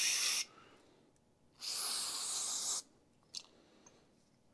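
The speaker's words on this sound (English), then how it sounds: "You can spray all down through here also, through all these passageways." Aerosol spray hisses into the jets of a Briggs & Stratton engine on a Ferris IS3000Z mower, two long close bursts separated by a pause, then a brief short puff.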